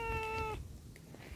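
A hungry cat waiting to be fed in the evening gives one clear, fairly loud meow lasting about half a second, then falls quiet against a low outdoor background rumble.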